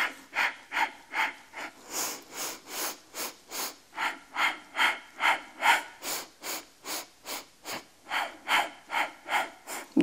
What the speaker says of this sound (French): Deux respirations encore